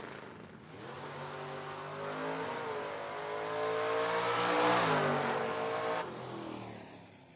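Steve Long's Ford Mustang door-car drag racer accelerating hard down the strip, a loud rising engine wail climbing through gears and swelling as it nears, then dropping off at the end.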